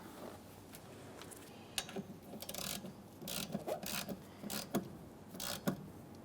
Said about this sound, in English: Continue on with your mounting nut. Start it on, snug it up.